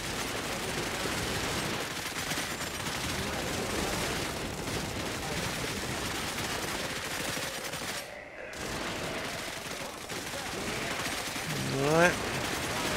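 Airstrike bombing in the open-world game Cepheus Protocol, a continuous dense roar of rumbling explosions and gunfire with a brief dip in the middle and a rising whine near the end, voices faint underneath.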